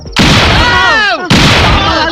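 A loud bomb explosion sound effect in a Telugu comedy scene: a sudden heavy blast followed by a falling, whistling tail, then a second abrupt boom, all close and dominant.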